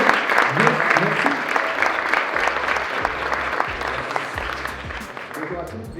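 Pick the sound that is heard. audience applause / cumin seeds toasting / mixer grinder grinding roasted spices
audience applause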